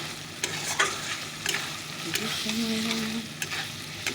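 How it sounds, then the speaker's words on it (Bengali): Potato pieces fry with spices in a pan over a low gas flame, making a close, steady sizzle with regular scraping stirs and light knocks of the spatula. "এবার আলুটা দিয়ে আমি একটু মশলাটাকে কষিয়ে নিয়ে তারপরে ঝোল দিয়ে দেবো"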